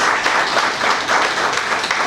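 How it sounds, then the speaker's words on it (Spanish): A church congregation applauds the children during a Sunday service, steady dense clapping filling the whole short stretch at a loud, even level. "Vamos a darle un aplauso a esos niños hermosos"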